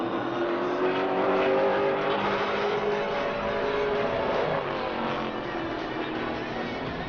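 Pro Late Model race car engine at New Smyrna Speedway during a qualifying lap, a continuous loud roar at full throttle with a slight pitch shift as it runs down to the checkered flag.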